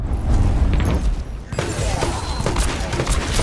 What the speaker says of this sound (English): Dr. Junkenstein lobbed his bombs at the castle.